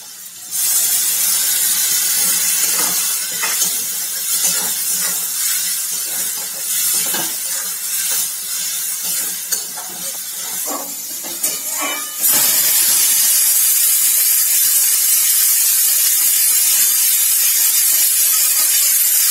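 Spice paste loosened with water hits a hot pan for Bengali matar ghugni, a loud steady sizzle and hiss that starts with a burst, crackles throughout and swells even louder near the end, with no talking.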